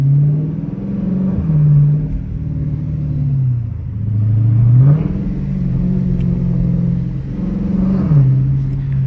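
A Dodge Challenger RT accelerates in first gear with a deep, rough engine note that rises and falls in uneven surges, loud and close from inside the cabin.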